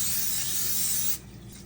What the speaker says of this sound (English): spray the Pam.